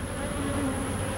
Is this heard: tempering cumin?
no